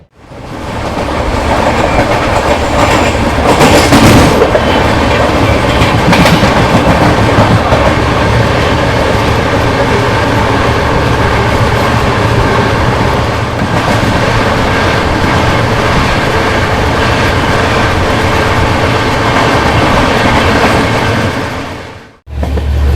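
The Duronto Express, running from Howrah to SMVT Bengaluru, rumbles loudly along the rails with continuous clickety-clack wheel noise and wagon roar, then cuts off abruptly at the end.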